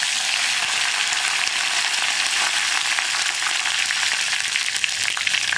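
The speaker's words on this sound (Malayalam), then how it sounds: "നമുക്കിതിലേക്ക് കുറച്ച് കറിവേപ്പില ഇട്ട് കൊടുക്കാം." Mustard seeds and curry leaves frying in hot coconut oil while a Kerala thoran is being made, giving a steady, close, loud sizzle with fine crackling that holds evenly throughout and carries no talk.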